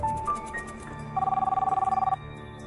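Telephone ringing with a single burst of rapid trilling bell rings lasting about a second, clear and fairly close, over a low background.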